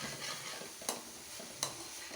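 Chicken sizzles softly and steadily in a frying pan as it cooks for a roll stuffing, broken by two sharp clacks of a utensil against the pan.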